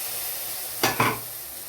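Water poured into a hot pan of curry with capsicum and cauliflower sizzles in two sharp, close bursts over a steady low background hiss.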